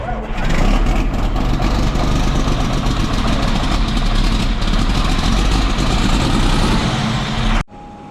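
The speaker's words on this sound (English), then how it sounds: "Now we're gonna get the other tractor going" A 4560 tractor engine idles close by on a snowy farm, a loud, deep, steady rumble that runs unbroken for about seven and a half seconds before dropping away.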